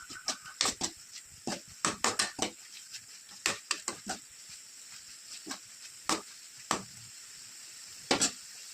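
A quiet pan of thick tomato mixture bubbles and pops as it boils down, with scattered irregular plops and spits over a soft background hiss.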